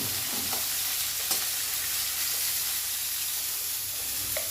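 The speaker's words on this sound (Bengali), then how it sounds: "তো উচ্ছেটা ভাজা ভাজা হয়ে গেছে" Bitter gourd frying in oil in a pan, a steady close sizzle with a few light scrapes of stirring and no talking.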